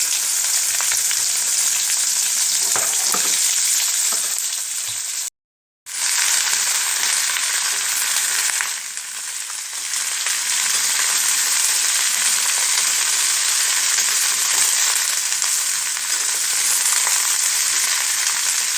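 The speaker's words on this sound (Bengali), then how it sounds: "সবজিগুলো দিয়ে একটু ভালো করে ফ্রাই করে নিতে হবে।" Mixed vegetables sizzle loudly in hot oil tempered with five-spice seeds, a continuous close crackle that cuts out briefly once, then resumes at full strength.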